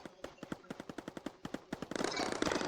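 Rapid automatic gunfire from the Mindustry factory tower-defence game, a steady train of sharp shots at an even rhythm that swells into a dense, louder burst of continuous fire near the end.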